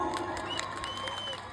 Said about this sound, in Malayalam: ഒന്ന് കൈയടിക്കൂ